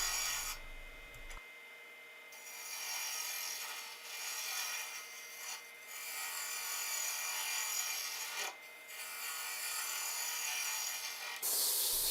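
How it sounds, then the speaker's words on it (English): A wood lathe turns a segmented bowl while a Hunter Osprey bowl gouge cuts its narrow neck, producing a faint, continuous scraping and hissing with brief dips as the tool lifts off and returns. "Here I'm using a Hunter Osprey bull gouge to turn this narrow neck of the bull."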